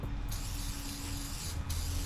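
A continuous close hiss of aerosol spray fills the whole clip, steady and fairly loud with slight breaks near the start and end, sprayed during a car engine swap.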